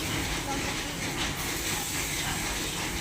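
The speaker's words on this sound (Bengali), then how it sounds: "সুন্দর করে নেড়ে চেড়ে আলুগুলোকে ভেজে নেওয়া হচ্ছে" Potatoes frying in oil with cumin while being stirred sizzle in a steady, broad hiss, moderately close and fairly quiet.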